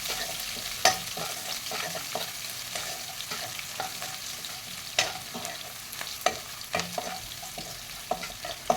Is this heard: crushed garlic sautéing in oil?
yes